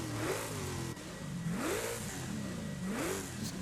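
An LS V8 swapped into a DMC DeLorean revs in Forza Horizon 5, its exhaust climbing and dropping through three quick blips in a close, continuous engine drone.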